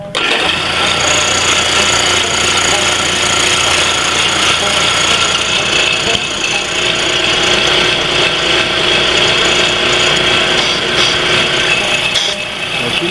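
An electric air compressor runs steadily with its tank open so no pressure builds, giving a loud, continuous mechanical drone with rattling texture that holds unbroken for the whole stretch and briefly dips near the end.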